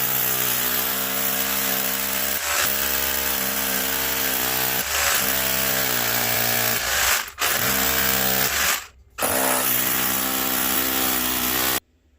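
A power tool countersinks screw holes in wood while building a crawl space entry door, whirring loudly and continuously with a few brief stops and one longer pause before cutting out at the end.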